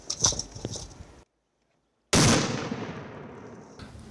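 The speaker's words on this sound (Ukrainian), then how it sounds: "Граната!" Hand grenade thrown in military training with territorial defense troops, a sudden loud blast after a brief silence, followed by a long rumbling decay outdoors.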